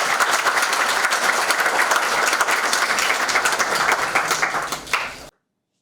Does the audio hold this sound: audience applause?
yes